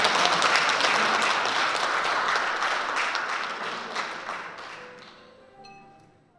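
A lecture-hall audience at a university gathering claps to welcome a professor, dense even applause that starts loud and gradually thins and fades out over several seconds.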